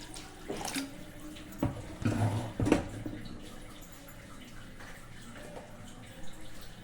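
About a litre of water poured into a pot of goat-head curry, splashing and gurgling in uneven bursts with a few louder gushes, then a softer trickle, close by.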